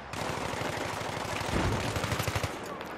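Rapid automatic gunfire from the video game Battlefield 3, a loud continuous burst of shots running through the whole moment with a few heavier hits near the end.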